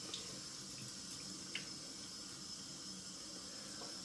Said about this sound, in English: Just rinsing down here.